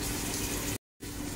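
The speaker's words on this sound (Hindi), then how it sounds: "अभी पूरा छोले इसमें मिक्स कर लूंगी, थोड़ा गैस को स्लो कर लेंगे, इसका अच्छे से हिला लेंगे" Chickpeas (chole) fry in a pan over a gas flame, giving a steady sizzle with stirring scrapes, broken by a short silent gap before the sizzling resumes.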